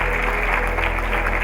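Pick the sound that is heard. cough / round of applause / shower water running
round of applause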